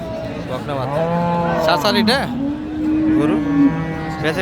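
Friesian cattle at the busy Ambari cattle market in Dinajpur, with several long, loud moos in a row, one after another, over distant crowd noise.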